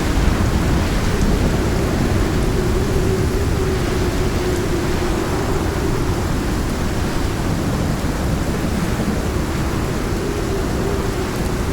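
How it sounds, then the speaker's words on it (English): Heavy rain from a rainstorm in the game Icarus pours down, heard from inside a stone shelter as a loud, constant roaring wash with a steady low drone, no pauses. "Being rained on while inside stone."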